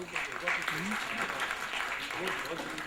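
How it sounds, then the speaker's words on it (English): Audience applause at an award function, dense clapping from a crowd heard under a voice talking over it. "Let's give her a warm round of applause."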